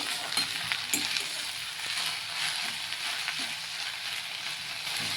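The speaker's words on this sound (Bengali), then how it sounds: "আর এটা ভাজা ভাজা হয়ে গেলে আমি নামিয়ে নেব।" Susni greens with onion and garlic fry in a pan, giving a continuous close sizzle broken by scattered stirring scrapes and light clicks of the utensil throughout.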